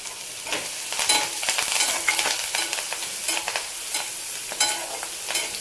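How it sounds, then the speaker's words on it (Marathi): Onion and curry leaves fry in a pan in steady close sizzling, with bursts of stirring and scraping scattered through, and no voices. "कांदा थोडा परतत आला की त्याच्यासाठी कढीपत्ता टाकते।"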